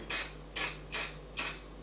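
White spray paint from an aerosol can hitting model trees in four short, evenly spaced hissing bursts, close and moderately loud, with no talking.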